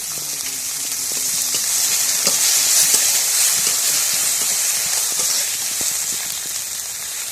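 Onions hit hot oil in a home cooking pan, giving a loud, steady sizzle close up with faint stirring clicks beneath it.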